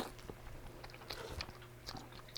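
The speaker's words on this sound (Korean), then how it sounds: "오징어 라면 한 번 더 먹어보겠습니다" Squid ramen noodles eaten up close, with soft biting and chewing sounds and a few slurps in a quiet room.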